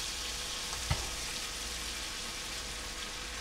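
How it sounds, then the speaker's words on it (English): Beans refrying in a hot pan give a steady, dense sizzle throughout, close and even, with a single soft knock near the start and no talking. "I'm going to put my beans, and I'm going to refry most of them"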